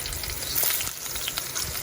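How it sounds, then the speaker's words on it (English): Veal sizzles loudly as it sears in a hot pan, a dense crackling hiss with small pops, close and continuous for a brief moment. "When you put your veal in the pot, you want to hear that sizzle."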